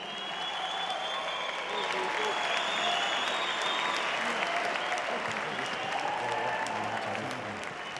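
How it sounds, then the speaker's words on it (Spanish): Continuous audience applause at an event, an even, full wash of clapping from many hands that holds steady, with some crowd voices underneath. "¡Aplauso!"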